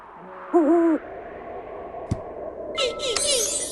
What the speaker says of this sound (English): Snowy owl.